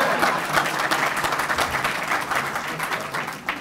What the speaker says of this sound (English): Hey, round of applause for that answer.